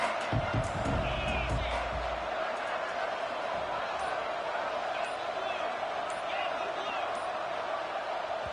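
Stadium crowd at a Kansas versus Virginia college football game, a loud continuous roar with no break, under a commentator's voice early on.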